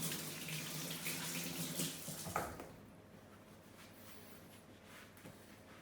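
Milk pours into a saucepan in a steady liquid stream for about two and a half seconds, then stops, leaving a quiet room.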